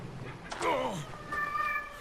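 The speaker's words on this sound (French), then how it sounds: "Il miaule, je sais pas pourquoi." A cat meows once, a drawn-out cry that slides downward, fairly close against a quiet room.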